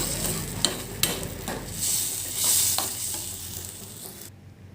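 Water goes into a pan of frying masala for a chickpea and egg curry, a rising hiss and sizzle with a few sharp utensil knocks and stirring scrapes before it cuts off abruptly.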